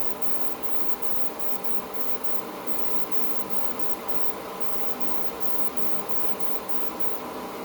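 A spray gun applies paint to the hood of a 1940 Ford coupe, producing a steady, close broadband hiss that runs without pause throughout.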